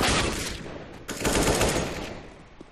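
Gunfire during a competitive shooter video game match between Space Soldiers and Natus Vincere, with loud, rapid automatic bursts up front, a brief gap, then another sustained volley that tapers off.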